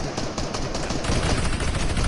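Rapid, continuous minigun fire in Fortnite during an Arena match, a dense unbroken roar of shots lasting about two seconds, loud and close, with no talk over it.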